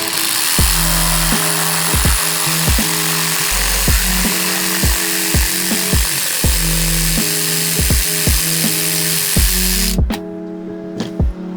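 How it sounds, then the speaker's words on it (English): Sawzall reciprocating saw cutting through pipe, loud and close, with a rapid buzzing stroke broken into repeated pulses, the cut changing pitch near the end as the blade breaks through. "You just get your desired size and cut it down with the Sawzall."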